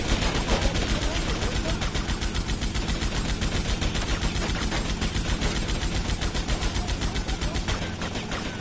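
Sustained automatic gunfire from enemies in GTA Vice City, rapid dense bursts rattling steadily for the whole stretch at close, loud level, with a voice talking faintly underneath.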